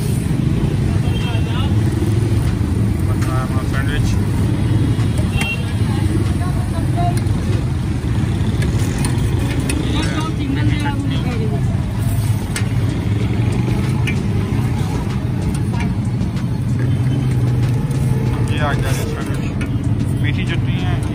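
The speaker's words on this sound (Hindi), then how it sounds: "शोर बहुत है गाड़ियों का" Loud, constant street traffic on a busy Hyderabad road beside a food stall, with cars and motorbikes droning and passing close by while people talk over the din.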